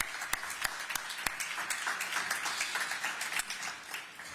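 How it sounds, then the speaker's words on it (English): Applause from an audience honoring officers at a downtown Pittsburgh holiday season announcement: scattered, fairly faint clapping with a few sharper claps, steady for several seconds with no talk. "So please give them a round of applause."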